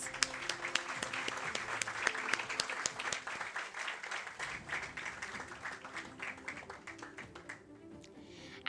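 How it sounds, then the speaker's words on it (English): Convocation audience applauding graduating students, a sustained crisp crowd clapping with individual claps distinct, gradually thinning and fading toward the end. "Let us give all the students a massive round of applause."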